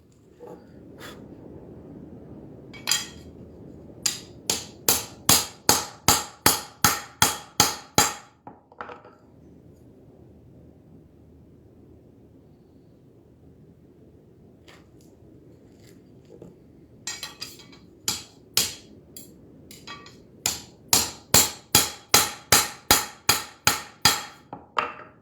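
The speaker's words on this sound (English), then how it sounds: "I can already again hammer a bit more here." Hammer blows straightening a bent kitchen knife, two runs of rapid evenly spaced sharp metallic strikes separated by quieter scattered taps and a pause, close and loud.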